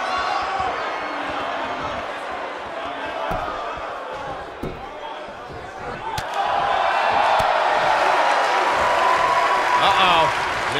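A video game crowd cheers and claps at a WrestleMania 9 wrestling match between Hulk Hogan and Giant Gonzalez, a steady roar that swells louder partway through under an announcer's commentary and scattered impact thuds.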